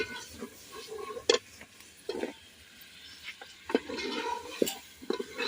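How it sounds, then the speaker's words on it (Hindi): Peas and potatoes are stirred into masala for a Punjabi aloo matar sabzi. A spoon gives irregular scrapes and light clinks against the pan over a low, steady background. "अभी हम डालेंगे मटर, साथ में आलू भी डाल देंगे।"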